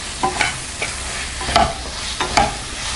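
Carrots and beans sautéing with tomato in a pan for kovakkai poriyal or wheat rava kichadi, stirred with a spatula in a few distinct scraping strokes over a soft, steady sizzle, close and fairly loud, no talking.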